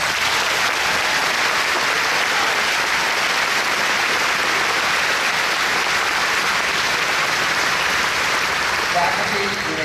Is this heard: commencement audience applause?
yes